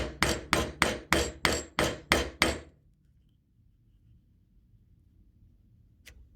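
A chisel being struck to trim a haunched mortise in wood, eight sharp evenly spaced mallet blows in quick succession, then quiet with one faint tick near the end.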